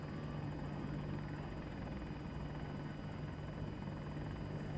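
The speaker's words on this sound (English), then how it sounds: "I don't know how to command the helicopter" A helicopter in the video game Battlefield 2042 drones steadily, its rotor and engine noise a loud, unbroken wash with an even pulsing texture and a constant low hum throughout. No voices.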